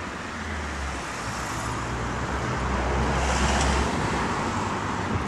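Steady road traffic noise with cars passing, a continuous low rumble and hiss that swells slightly midway, fairly loud and close, with no talk over it.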